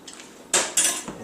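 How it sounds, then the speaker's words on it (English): A utensil scrapes out a bowl while making sandwich ingredients, two sharp metallic clinks and scrapes close up with no talk. "scrape that out"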